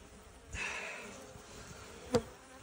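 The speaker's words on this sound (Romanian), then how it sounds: "Ia uitați albina cum stă în straturi." Buzzing honey bees swarm over a hive frame, a soft close drone with one bee zipping past loudly near the end, no voices.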